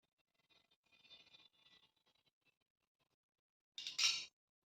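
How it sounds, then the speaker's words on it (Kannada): Scissors snip through blouse fabric along the outer cutting line. Faint, quick snips come first, then one louder, crisp cutting burst near the end, with no talk. "ನೆಕ್ಸ್ಟ್ ಔಟರ್ ಲೈನ್ ಕಟ್ ಮಾಡ್ಕೊತೀನಿ"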